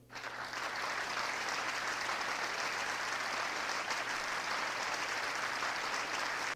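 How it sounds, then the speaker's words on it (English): Audience applause recorded in a hall, a continuous wash of many hands clapping at even loudness from start to finish with a faint low hum underneath. "I searched for clap in the hall, which gave me a great white space applause recording."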